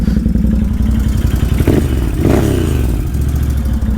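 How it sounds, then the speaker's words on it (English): Can-Am Outlander 800 ATV engine with an exhaust leak, running loud and close with a rapid rhythmic ticking pulse over the idle, briefly revving midway before settling back. "that ticking noise I'm hearing is an exhaust leak"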